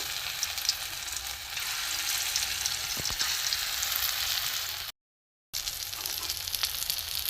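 Prawn-head fritters fry in hot oil, a continuous close, dense crackling sizzle that holds steady and cuts out briefly near the end before resuming.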